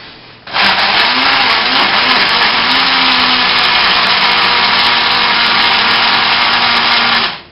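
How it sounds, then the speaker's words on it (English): Small kitchen blender whirring steadily at high speed through a raw chocolate chip bar mixture, a loud sustained motor whine that starts abruptly, runs for several seconds alone, then cuts off. "So we're going to blend this quickly."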